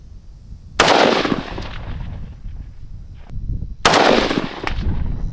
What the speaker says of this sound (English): Let me go ahead and shoot.